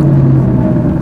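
A Ferrari 458 Italia Oakley Design rumbles on the Mortefontaine road circuit, a loud, low, throaty engine drone with a steady tone and slight flutter, heard up close and alone.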